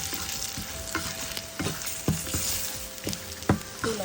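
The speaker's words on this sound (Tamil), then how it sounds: "இந்த தூளை இந்த எண்ணெயிலேயே நம்ம கொஞ்சம் அப்படியே வறுத்துட்டு" Spice powders roasting in oil with potatoes in a pan, a crackling sizzle under regular spatula strokes that scrape and tap the pan about every half second, close-up with no speech.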